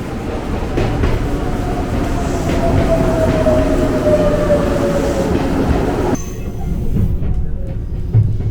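A Kurofune special train rumbles steadily along the tracks outside Tokyo with a faint wheel squeal in the middle, the noise dropping abruptly near the end.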